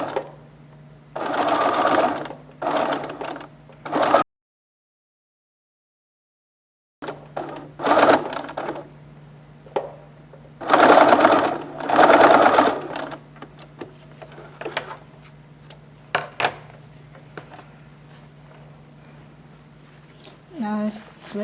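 A sewing machine stitches the long sides of a folded-style fabric mask in several bursts of steady running, with pauses and a silent gap between them and a low hum throughout.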